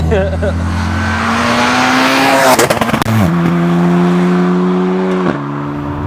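A loud, 600+ BHP MK7 Volkswagen Golf R Estate engine revs hard and holds high, drops sharply as it shifts, then climbs and holds again, close to the microphone.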